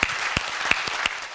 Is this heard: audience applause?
yes